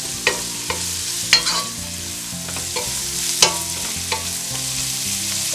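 Ingredients for a Ghanaian bean stew frying in oil give a steady, close sizzle, broken every second or so by knocking stirs of a spoon in the pot.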